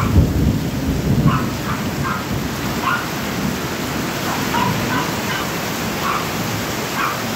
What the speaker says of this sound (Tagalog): malakas talaga ang ulan